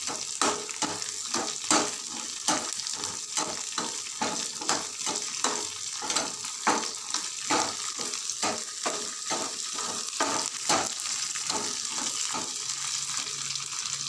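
Green chillies sautéing in a pan for a Chettinad-style pachai milagai mandi, with a continuous close sizzle and a regular rhythm of scraping spoon strokes throughout, no voices.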